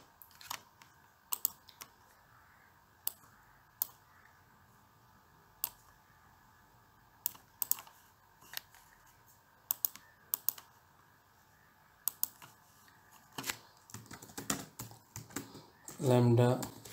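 Computer keyboard keys clicking in scattered bursts while text is typed into a power-system simulator, close and fairly crisp, with a denser run of keystrokes near the end and no speech.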